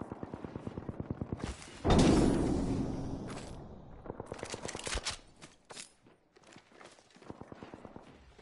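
Video game gunfire, with rapid bursts of shots ringing out in quick rhythmic volleys, then a loud blast that decays into scattered later shots.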